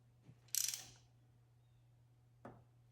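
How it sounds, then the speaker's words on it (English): A ratchet tightens a spark plug on a 4-cylinder Toyota RAV4 Hybrid engine: a short run of quiet clicks, then one lone click later, over a low steady hum in a quiet space. "then you can take your ratchet, right, tighten her up"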